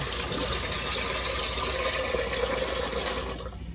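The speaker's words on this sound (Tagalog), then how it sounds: "Lagay tayong tubig" Steady rushing water pours continuously into a cooking pot, a close, full splashing stream that eases off slightly near the end.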